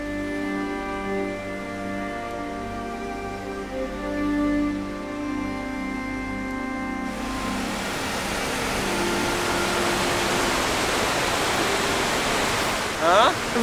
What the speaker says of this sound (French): 270 mètres de chute d'eau sur 7 niveaux qui tombent dans la rivière Shubetsu